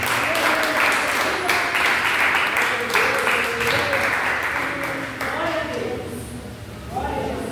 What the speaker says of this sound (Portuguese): aplaudindo a Jesus Cristo.